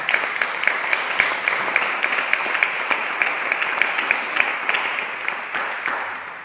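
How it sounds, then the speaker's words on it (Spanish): Audience applause at a public talk event honoring biologist Ángel León Panal, a dense steady wash of many hands clapping with a few sharper individual claps standing out, sustained evenly throughout. "Pero ahora un fuerte aplauso para el biólogo Ángel León Panal."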